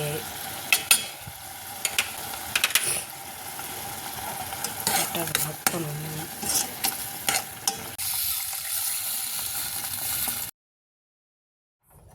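Turmeric powder and rasam powder sizzle in hot oil in a pan while rasam is cooked, with a steady close frying hiss broken by repeated scraping stirs. The sound cuts off abruptly near the end.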